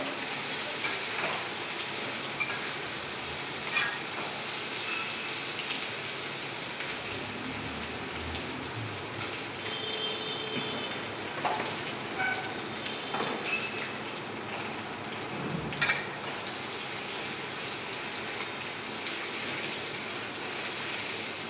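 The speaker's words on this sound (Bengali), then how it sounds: "এবার এতে দিয়ে দেবো 5 ফোড়ন, একটা শুকনো লঙ্কা দিয়ে দিলাম।" Panch phoron and a dried red chilli sizzle in a little hot mustard oil, giving a steady, soft crackling hiss with occasional sharper pops.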